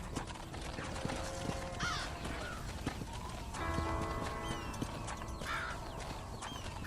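Horse hooves clip-clop steadily on the ground in the Red Dead Redemption video game, with a brief whinny and bird caws mixed into the busy ranch ambience, with no talking.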